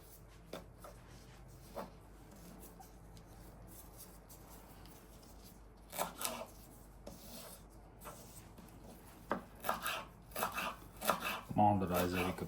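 Fresh dill chopped finely with a knife on a board makes quiet, scattered taps, then quicker clusters of cuts near the end, with faint talk in the background.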